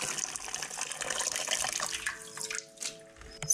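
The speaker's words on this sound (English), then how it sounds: "You're gonna wanna take your cabbage head and just dump it in the cold water." A hot, heavy cabbage head is dunked into a sink of cold water, producing a continuous watery slosh and splash with a gurgling, trickling tail near the end, close and fairly loud, with no talking.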